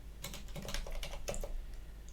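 Keys clatter on a computer keyboard in a quick run of close, crisp taps lasting about two seconds over a low electrical hum.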